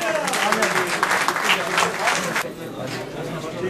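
An audience claps to welcome a speaker onto the stage at a live event in Paris, a dense burst of applause that stays loud for a couple of seconds and then thins into lighter, scattered clapping.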